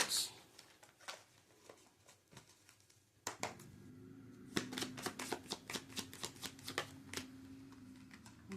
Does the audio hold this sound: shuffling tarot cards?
yes